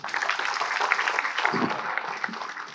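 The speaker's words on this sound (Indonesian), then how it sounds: "Sekali lagi kita berikan aplaus untuk beliau." Audience applause for a guest on stage at a Kenduri Cinta gathering, a steady, dense wash of clapping that holds at moderate loudness for a few seconds, with a faint voice briefly underneath.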